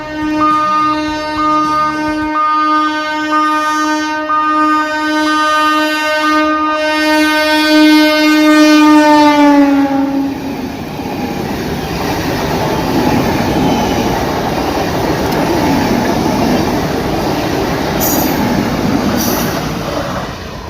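A train passes along a railway line running through a quiet village: a loud, sustained horn blast gives way to a heavy, close rumble and rattle of wheels that carries on to the end.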